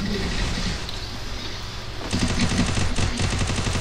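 Rapid video game gunfire crackles in bursts, steady automatic shots at first, then louder, sharper volleys in the second half, close and dominant with no talk over it.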